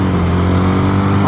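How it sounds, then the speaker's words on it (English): Honda Grom motorcycle with a slip-on exhaust downshifting while riding: a loud, close engine drone with strong low harmonics that holds steady, then its pitch shifts briefly near the end. "awful downshift."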